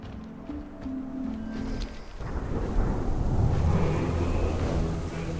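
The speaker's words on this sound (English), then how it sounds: "A storm." Thunderstorm in World of Warcraft: Dragonflight, a rolling rumble of thunder that swells midway and stays heavy with rain-like wash and wind noise, loud and continuous without speech.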